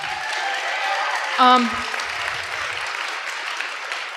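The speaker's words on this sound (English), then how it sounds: "Another round of applause for the organizers." Round of applause from a conference audience for the organizers, steady broad clapping throughout with a brief tonal voice-like sound in the middle.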